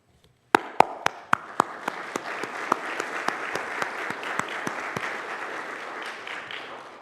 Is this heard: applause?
yes